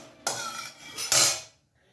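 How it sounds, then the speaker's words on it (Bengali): Potatoes tipped into hot oil in a wok for aloo dum: a loud clattering splash, a brief easing, then a stronger hissing surge that dies away quickly into quiet. "আলুগুলো দিয়ে দিলাম।"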